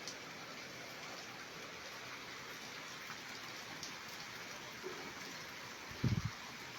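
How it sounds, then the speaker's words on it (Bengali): Rain falls steadily around a hilly spot in Tamulia near Jamshedpur, a faint, even patter heard from a distance, with one brief louder thump near the end and no talking. "চারদিকে বৃষ্টি পড়ছে।"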